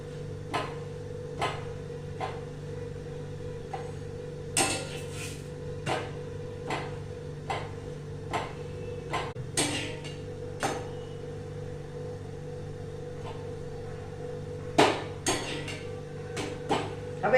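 Bhakri flatbread is pressed on a hot pan with a presser, giving sharp, irregular taps and clicks over a steady low hum from the gas stove, with no talking.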